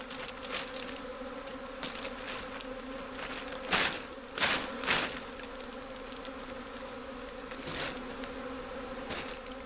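Swarm of honey bees on a tree, captured into a hive, keeps up a low, steady buzzing close by, with several louder passes of individual bees sweeping near and away.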